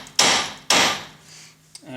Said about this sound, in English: So go ahead and hit it with a hammer a few times.